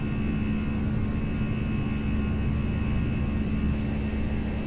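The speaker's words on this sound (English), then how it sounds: "Sitting in front of the engine, you really get that buzzsaw." Airbus A319 jet engine in a flight simulator game, heard from a seat in front of the engine, giving a steady, loud buzzsaw drone with a constant tonal hum and no break throughout.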